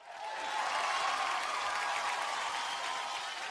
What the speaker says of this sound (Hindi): जोरदार तालियां फॉर स्टार गिल्ड अवार्ड।